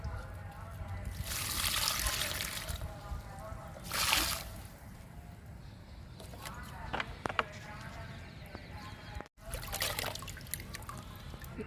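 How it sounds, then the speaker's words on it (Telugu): Homemade liquid fertilizer is poured onto a rose plant, with bursts of trickling and splashing liquid near the mic, interspersed with quieter stretches and someone talking. "గులాబీ కూడా ఇచ్చేద్దాము లిక్విడ్."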